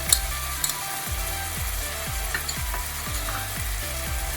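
Onion paste and ginger garlic paste frying in a pan for chicken korma, a loud continuous sizzle up close with a steady, regular scraping stir repeating roughly every half second.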